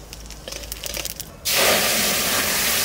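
Cumin seeds dropped into a little hot oil for tempering, a few light crackles giving way to a sudden loud, sustained spitting hiss close up.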